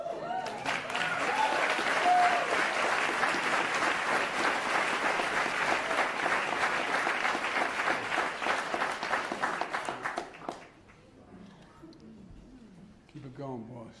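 Audience applause at a White House event on gun violence, greeting the President and Vice President: sustained, dense clapping from a large crowd for about ten seconds, then fading to scattered claps and murmuring.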